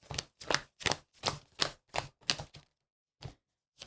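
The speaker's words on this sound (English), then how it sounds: "So now I got to start shuffling all these." Cards from the Aeon's End: Legacy of Gravehold board game are shuffled in a steady run of about eight crisp, evenly spaced bursts, then a short pause and one more burst, close and alone with no talking.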